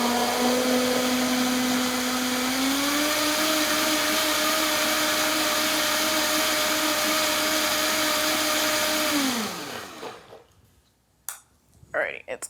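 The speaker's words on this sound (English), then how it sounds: "High maintenance blender." Blender whirring through homemade barbecue sauce, a loud steady motor whine that drops in pitch partway through, then winds down and stops near the end, followed by brief clatter.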